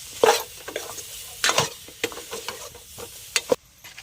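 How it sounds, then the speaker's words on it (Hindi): Wood apple (kaitha) pickle being stirred and mixed in a pan, a series of close, wet scraping and squishing strokes with irregular pauses, alone without talk. "और अब इस तरह से चला के अच्छे से मिक्स कर लेंगे।"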